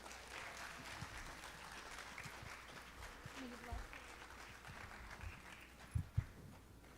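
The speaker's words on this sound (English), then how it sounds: "Give it a warm applause for Shrivani." An audience at a Bharatanatyam arangetram claps in a steady, moderate round of applause that fills the hall evenly, with a few louder claps near the end.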